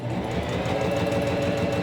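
Sewing machine running steadily as it pulls fabric through under a lowered presser foot, a close, continuous rhythmic motor hum and needle knock with no pauses.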